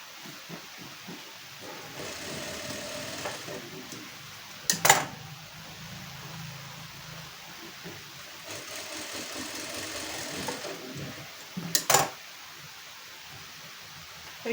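An electric sewing machine stitches tucks on a simple blouse. It hums quietly in two steady runs, each a few seconds long, separated by low background noise and a couple of brief sharp clicks.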